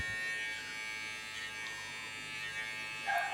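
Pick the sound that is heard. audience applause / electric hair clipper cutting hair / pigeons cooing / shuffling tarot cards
electric hair clipper cutting hair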